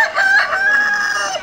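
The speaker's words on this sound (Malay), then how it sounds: "Panggil siapa berkokok tu?" A single rooster crows close by, one clear sustained call that rises and holds before trailing off, with a faint background behind it.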